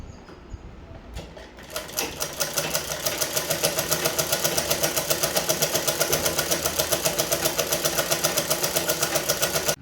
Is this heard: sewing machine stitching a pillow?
yes